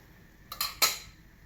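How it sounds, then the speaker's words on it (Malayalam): A metal lid comes off a pot of milk boiling on the stove, giving two quick clinks and a brief clatter of metal against metal, then a low steady hiss. "മൂടി വെച്ചിട്ട് ഒന്ന് തുറന്ന് നോക്കാം."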